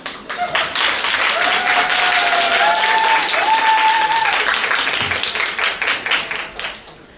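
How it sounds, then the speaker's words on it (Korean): Wedding guests give a big round of clapping as the singer comes forward to perform a celebratory song for the bride and groom. The dense applause holds steady, then breaks into scattered individual claps as it dies away. "등장할 때 큰 박수로 부탁드리겠습니다."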